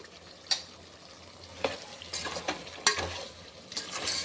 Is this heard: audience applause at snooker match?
no